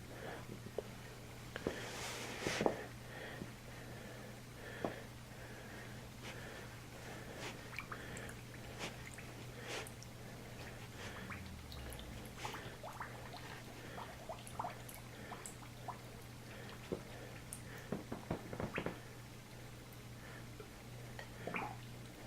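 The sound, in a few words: water filling a pipe, letting out air bubbles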